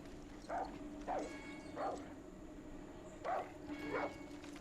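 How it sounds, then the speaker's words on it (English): A Rottweiler barking in the video game Far Cry 6, giving five separate barks at irregular intervals, at moderate distance over a steady background hum, with no talk. "I hear a Rottweiler."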